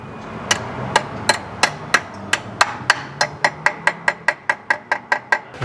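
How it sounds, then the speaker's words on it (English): A duckbill hammer strikes metal during car suspension replacement, with sharp, ringing blows. They start spaced out and then settle into a fast, regular series of about twenty close hits, and no one speaks. "Love my duckbill hammer."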